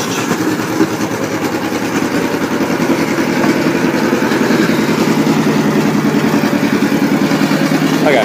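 A 1941 John Deere LA tractor engine runs close by with a loud, steady, rhythmic chugging putter, holding an even beat throughout.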